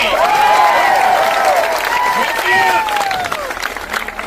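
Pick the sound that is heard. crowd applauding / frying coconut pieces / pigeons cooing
crowd applauding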